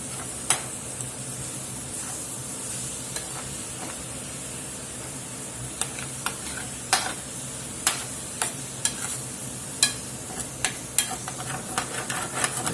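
Canned chilies and diced tomatoes sizzle steadily in a hot skillet, a continuous frying hiss with scattered sharp pops and stirring scrapes growing more frequent toward the end, close and alone without talk.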